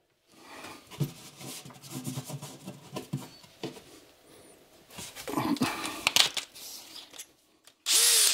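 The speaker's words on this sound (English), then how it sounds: "I'm going to drill a new hole about 2 inches over this way." A power drill bores a new hole for an over-sink kitchen light in short, uneven bursts close by, with rustling and handling noises between runs and a brief whine near the end.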